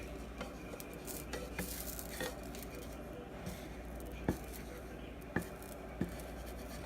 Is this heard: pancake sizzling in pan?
yes